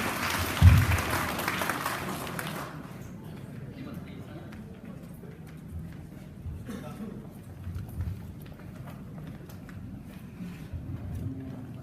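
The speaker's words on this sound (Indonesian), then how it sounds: "Aplaus untuk Pak Fahrul." Audience applause for a keynote speaker at a formal event, a loud burst of clapping at the start that fades within a few seconds, followed by quieter room noise and distant voices.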